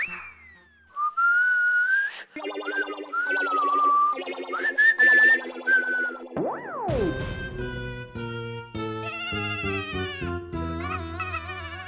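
A man whistles a cheerful tune in a lively comedy scene, bright melodic phrases rising and falling in quick bursts, then giving way to playful boing-like sound effects and tinkling musical cues.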